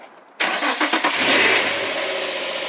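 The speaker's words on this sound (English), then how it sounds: "Cold start, I'm guessing." A Nissan 350Z engine cold starts: the starter gives a brief crank, then the engine catches with a loud burst and a few quick revs before settling into a steady high idle, close up.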